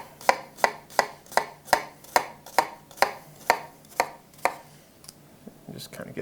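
A knife finely dices white onion on a cutting board for a shrimp taco garnish: about a dozen crisp, evenly spaced chops close up, then a few slower, scattered strokes at the end.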